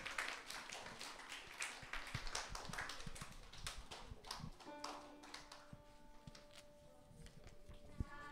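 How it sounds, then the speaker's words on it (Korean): Children and teachers clap for helpers at a Sunday worship service, a brief burst of quiet, fairly distant group applause, then a sustained tone from a keyboard or organ. "박수 한번 드리겠습니다."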